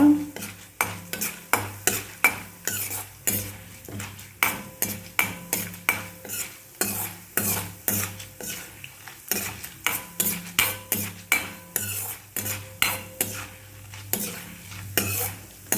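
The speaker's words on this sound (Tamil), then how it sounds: "அதை வந்து நல்லா வதக்கிக்கலாம் வறுத்துக்கலாம்" Pumpkin seeds are sautéed and roasted in oil in a pan for chutney, with a spoon scraping in quick, regular strokes over a low, continuous sizzle, close and without talk.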